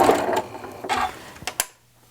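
A sewing machine stitches pleats and tucks in fabric, running in a few close bursts and then locking the stitches with short back-and-forth runs before stopping into near silence.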